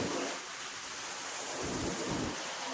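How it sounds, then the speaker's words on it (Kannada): Heavy rain driven by strong wind hisses in a continuous wash during a windy storm on a day out with friends, fairly faint and steady with soft low gusts. "ಗಾಳಿ ಮಳೆ ಎಲ್ಲ ಭಾಳ ಸ್ಪೀಡ್ ಐತಿ."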